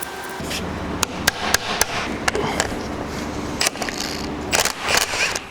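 Small punch hammered on a Willys Jeep Dana 25 axle during teardown: a series of sharp metallic hammer strikes, irregularly spaced, close and loud over a steady workshop hum.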